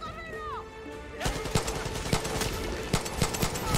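Rapid gunfire from a weapon in the video game Far Cry 6 crackles in a dense string of sharp repeated shots, loud and close, following a short stretch of tonal game sound.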